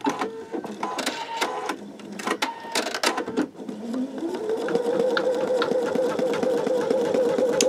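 An embroidery machine stitching out a placement stitch, starting with clicks and clatter, then settling into a steady, close mechanical whir that runs continuously to the end.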